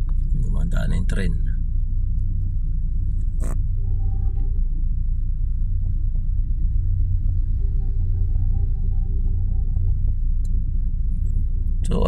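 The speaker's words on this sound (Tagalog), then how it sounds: "Dumadaan na yung tren." Train passing near the Skyway, a heavy, sustained low rumble that stays loud and steady, with a few brief sharper sounds on top.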